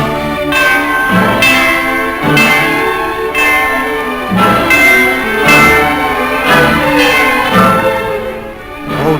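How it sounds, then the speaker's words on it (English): A large bell tolls repeatedly in a slow, steady rhythm, each loud strike ringing on into the next with no voices. "Let's ring the bell and get help."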